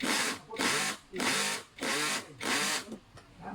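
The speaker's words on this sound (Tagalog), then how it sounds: "Then going to tighten the screw." A screw is tightened with a power driver while an office chair is assembled indoors: four or five short, buzzing whirs, each roughly half a second long, separated by brief pauses.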